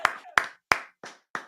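Five sharp claps spaced evenly about a third of a second apart, close and fairly loud, each with a short ringing tail.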